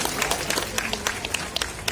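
An audience claps for judo players at an Uttarakhand Police adventure display on state foundation day, the applause a dense, steady patter of many hands with occasional sharper claps standing out, continuing without break.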